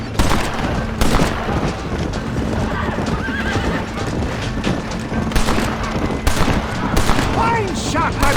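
Gunfire rings out in the Western video game Red Dead Redemption, with repeated sharp shots over galloping horse hooves and whinnies, loud and close, mixed with character voices.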